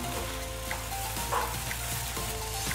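Rice vermicelli is stirred as it fries in a pan, giving a steady loud sizzle with occasional scraping and tossing sounds, and no talk.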